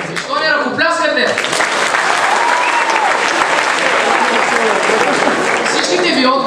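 Loud studio audience applause in a comedy quiz sketch, dense steady clapping that fills nearly the whole stretch, with a voice heard briefly at the start and again near the end.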